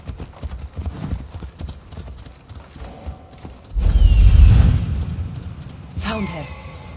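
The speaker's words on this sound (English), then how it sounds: "Cassandra's horse is named Phobos, which is the ancient Greek word for fear" Horse hooves clip-clop loudly in Assassin's Creed Odyssey, a dark, underworld-looking steed trotting close, with a heavy surge of galloping hoofbeats midway and a brief whinny-like call near the end.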